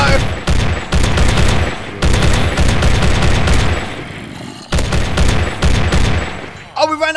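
An MP40 submachine gun fires in a blocky zombie-survival game, long loud bursts of rapid automatic fire with brief gaps, close and dominant.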